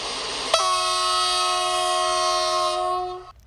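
Train at Záhony station on the Hungarian–Ukrainian border, a sharp start followed by a long sustained horn-like tonal blast lasting about three seconds before cutting off, loud and fairly near over a low rumble.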